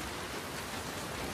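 Rain in The Last of Us Part II falls steadily as a dense, even hiss of drops on surfaces, moderately loud and unbroken, with no voices.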